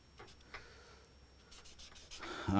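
Marker or chalk strokes writing a sentence on a board, a run of soft scratchy rubbing strokes with brief pauses, close and quiet, growing louder at the end.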